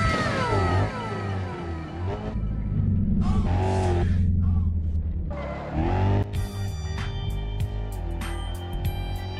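A simulated Range Rover in BeamNG.drive roars along and jumps between two giant dump trucks. Its engine whines and revs in rising and falling sweeps, cuts out briefly, then ends in sharp clattering impact clicks.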